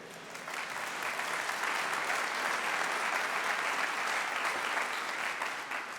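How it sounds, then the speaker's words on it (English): An audience at a choral arts award ceremony breaks into full, sustained applause that swells quickly and holds as a dense, even wash for several seconds. "Thank you for your applause"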